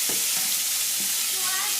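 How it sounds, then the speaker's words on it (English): Refried rice with beans, spinach and ham frying in a pan, a loud, close, constant sizzle with a few faint scrapes of stirring. "refried rice with the beans, throwing in the spinach, right? A little bit of ham, and just kind of cooking it up."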